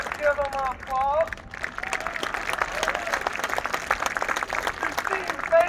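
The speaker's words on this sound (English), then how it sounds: "To the cheerleaders, let's give them an applause." A stadium crowd claps for the cheerleaders in a broad, continuous round of applause, with scattered shouts and whistles riding over the steady clatter of hands.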